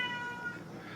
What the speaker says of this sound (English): If you can hear my cat meowing in the background